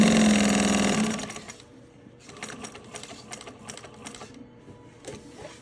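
A Juki 1541s sewing machine stitches through quilting cotton with fused fleece, first in a loud steady hum, then slowing into quieter, irregular stitch runs with rhythmic ticking.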